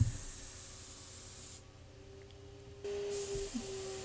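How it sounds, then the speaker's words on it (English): Steady hiss of a paint spray gun coating a mid-century dresser, dropping off briefly midway before resuming with a faint motor hum underneath. "how long it takes to spray a piece this size"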